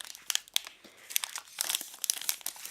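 Crinkly plastic wrapper of a Cadbury Dairy Milk Oreo Sandwich bar being peeled open, sharp crackles and crumples in irregular bursts, close up and fairly quiet, with no voices.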